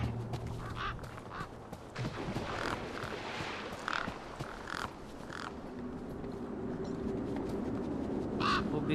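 Crows caw repeatedly in the video game Beyond a Steel Sky. The harsh calls are moderately loud over a dense ambient game soundscape, with no speech.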